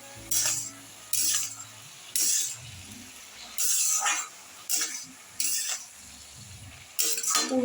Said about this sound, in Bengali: এবার একটু ভালো করে নাড়িয়ে দিই